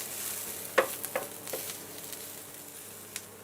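Quiet, steady sizzling of onions frying in oil, with a few soft clicks and taps from a utensil.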